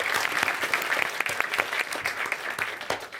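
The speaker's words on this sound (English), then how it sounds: "a warm round of applause for our fully trained orchestra under the leadership of Mr." An audience at a high school production of the musical The Mystery of Edwin Drood gives the orchestra a round of applause: a full, steady wash of clapping with a few sharper individual claps standing out.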